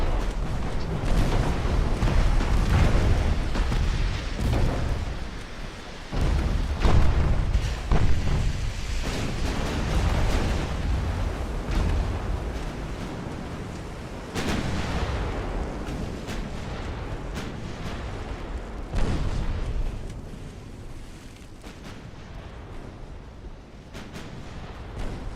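Heavy naval guns from warships firing high-explosive shells in an Ultimate Admiral: Dreadnoughts battle, with repeated deep booming salvos rolling over one another in loud, dense succession for the whole stretch.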